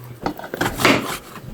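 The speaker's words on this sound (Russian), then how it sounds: "Нарезаем наш жир." A knife slicing through pork fat on a board while preparing a meal in a Bashkir village, giving a few close, soft cutting and scraping sounds with light knocks.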